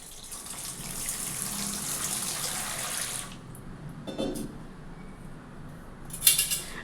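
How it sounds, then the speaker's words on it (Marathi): Water pours in a steady rushing stream into a bowl of peeled potatoes for a few seconds, then stops, leaving a couple of small clinks and knocks. "यात पाणी टाकणार आहे"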